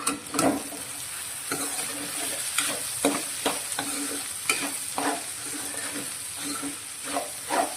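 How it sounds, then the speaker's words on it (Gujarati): A spoon stirs spiced kankoda (spiny gourd) curry in a hot pan, with steady sizzling frying under repeated scraping and clinking strokes, close and fairly loud throughout. "શાકને આપણે સારી રીતે મિક્સ કરીશું"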